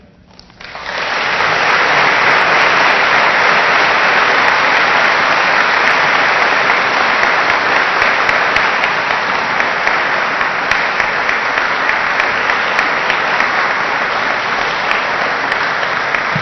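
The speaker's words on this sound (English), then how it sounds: "Again, applause for both Amy and Cole." Sustained, loud applause fills the hall at the 2014 Union College Athletics Senior Awards Ceremony, a thick, even wash of clapping that starts abruptly and carries on unbroken for over fifteen seconds.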